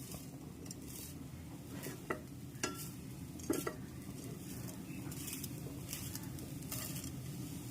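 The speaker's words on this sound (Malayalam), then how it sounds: "നന്നായിട്ട് നമുക്ക് വറുത്ത് നോക്കാം കേട്ടോ" Onion, garlic and cumin fry in a pan with a soft, constant sizzle, broken by several sharp scrapes and clinks of a spoon stirring against the metal.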